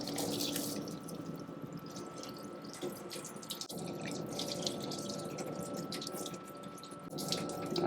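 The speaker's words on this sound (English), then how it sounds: "let's see how our coolant is doing here" Coolant pouring steadily onto 410 stainless steel on a machining setup, a continuous close splashing and trickling stream with a faint mechanical hum underneath, no talking.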